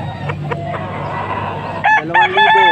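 Rooster crowing at a cockfight in Angeles, Pampanga, two or three loud, close crows near the end over a steady crowd murmur.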